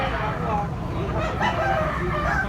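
Gamecock rooster crowing at a busy cockfight market in Tabunok, Cebu, crows rising over a dense background of crowd chatter and other birds.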